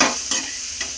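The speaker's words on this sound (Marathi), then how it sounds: "त्यानंतर त्याच्यामध्ये बटाटा टाकायचा आहे. छान असं मिक्स करून घ्यायचं आहे" Potatoes stirred and fried in oil in a pan, a close steady sizzle with a couple of quick spatula scrapes, no talk.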